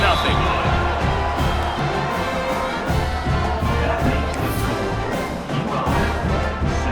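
Steady roar of a stadium crowd cheering in the College Football 26 video game during a kickoff after a touchdown, loud and continuous throughout with swells of noise.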